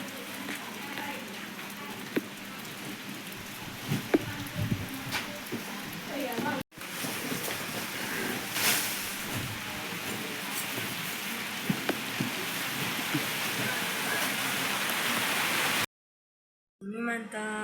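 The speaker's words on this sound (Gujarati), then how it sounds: "ઝીણો ઝીણો વરસાદ ચાલુ થઈ ગયો" Light outdoor drizzle falling as a steady, even hiss of fine drops pattering on surfaces, with scattered small taps and knocks, and people talking over it, before a brief drop to silence near the end.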